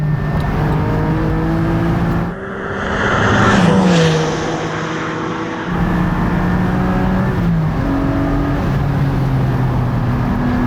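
A 2020 Porsche 718 Boxster Spyder in second gear on a track section, its engine droning and revving up and down with shifting pitch, heard from inside the car over wind noise.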